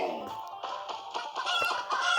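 Chickens in a chicken-catching video game cluck and squawk continuously, a dense, loud and busy flock sound with a rooster-like crowing tone running through it and no talking.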